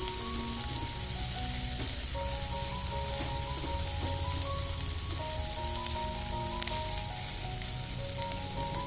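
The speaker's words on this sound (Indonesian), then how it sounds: "Bisa kita tumis sampai bawang merah dan bawang putihnya mengeluarkan aroma sedap" Sliced shallots and garlic sauté in hot oil, giving a steady, close, crackling sizzle that runs throughout beneath soft background music.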